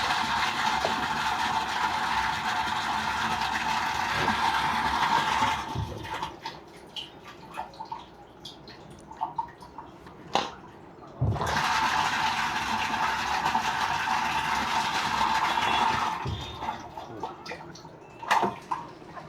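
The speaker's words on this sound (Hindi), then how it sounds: "सबमर्सिबल पंप ऑटोमेटिकली चालू हो जाएगा। आप देख सकते हो पानी आना स्टार्ट हो चुका है।" A submersible pump fills a water tank, steady loud rushing and splashing of flowing water that drops away partway through, then returns, with scattered clicks and knocks in the quieter gaps.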